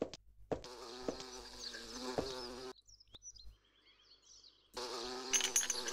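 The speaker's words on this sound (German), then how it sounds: "Vorher hat man hier auch nur die Fliegensummen gehört." A fly buzzes in a horse-riding farm video game, droning in loud bursts with harmonic tones that break off into near silence with faint chirps before the buzzing returns, with no voices.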